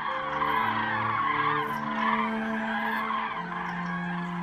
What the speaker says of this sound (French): Les grues et bien d'autres oiseaux entament leur migration vers le sud